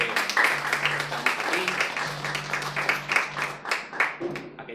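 An audience applauds at a welcome, a steady dense patter of many hands clapping throughout while a voice talks over it.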